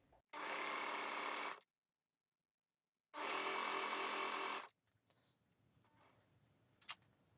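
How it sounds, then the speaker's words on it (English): A sewing machine stitching a tie made of crepe fabric, running in two steady whirring bursts of about a second and a half each, separated by a pause, followed by faint handling clicks. "fold it in half, keep it in my fingers over at this fold edge and sew"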